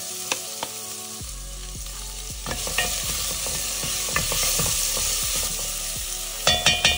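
Cumin and onions fry in oil in a pan for khichdi, a steady close sizzle broken by scraping stirs and a few clattering knocks of a spoon against the pan.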